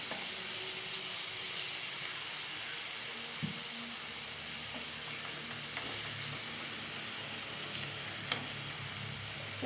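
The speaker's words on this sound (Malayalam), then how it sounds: "നമുക്ക് അരിഞ്ഞു വച്ചിരിക്കുന്ന കൂമ്പിട്ട് കൊടുക്കാം" Chopped banana blossom sizzles steadily in a hot pan, a continuous close frying hiss with occasional soft stirring scrapes and no talking.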